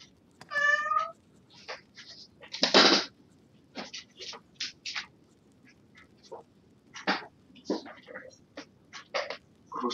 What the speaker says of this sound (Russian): Просто я не знаю, что происходит с котом.